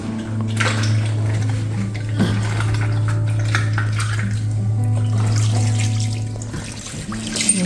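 Liquid brine poured over salmon fillets being prepared for smoking, a steady watery trickle and splash running throughout, close and fairly loud, with a constant low hum underneath.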